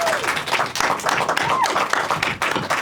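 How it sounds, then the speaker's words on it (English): Audience applause fills the room after a film festival Q&A on opening night, a steady, dense wash of many hands clapping close by, sustained without pause for a few seconds. "Let's give a big round of applause."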